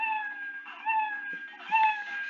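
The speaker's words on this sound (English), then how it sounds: "I can repeat 10 times playing the sound meow." Cat meow sound effect played repeatedly from a Scratch coding project, several clear meows in a row with steady harmonic tones, close and moderately loud with no talk over them.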